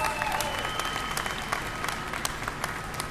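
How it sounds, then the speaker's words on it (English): A crowd at an arena topping-out celebration applauds steadily for a few seconds, a dense, even patter of many hands with occasional sharper claps and a faint voice or whistle tone above. "give yourselves a round of applause"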